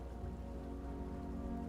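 Steady rain patters on a surface in a continuous, even wash of drops with a low rumbling undertone and no voices.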